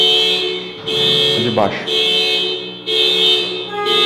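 A car alarm goes off outside a church service, a steady, loud electronic tone cycling in repeating bursts, with someone speaking over it.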